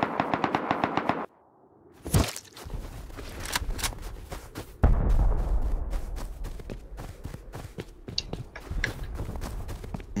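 Rapid bursts of gunfire during a video game raid, loud, close rattling volleys with a brief lull, then sustained shooting and scattered shots.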